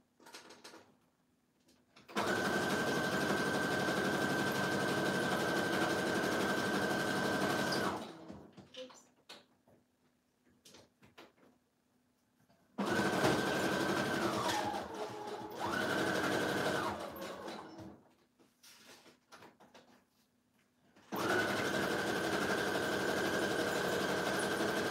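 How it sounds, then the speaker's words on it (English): Sewing machine zigzag-stitching around the edges of paper book pages runs in three long, loud stretches of steady mechanical whirring with a constant hum, separated by quiet pauses with faint handling sounds. "I'm gonna take this to the sewing machine really quick, and I'm just gonna sew around."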